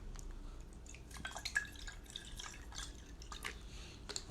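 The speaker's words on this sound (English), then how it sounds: "let me pour some water" Water poured out as an offering, a faint, close trickle breaking into scattered drips and splashes, irregular and quiet, with no talking over it.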